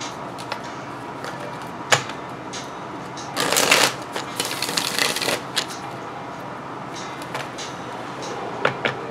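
Tarot cards being shuffled up close: scattered soft taps and flicks, then a burst of riffling in the middle, followed by more light card handling.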